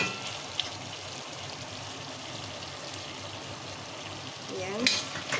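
Sumac goes into a frying pan for sumac rice with chicken and gets stirred, giving a constant soft sizzle with a few scraping clicks of the utensil and a brief louder stir near the end.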